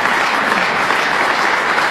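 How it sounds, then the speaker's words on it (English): Snooker audience applause fills the hall in a dense, steady burst of clapping, loud and close, after a player wins a UK Players Tour Championship tournament. "he deserves that round of applause"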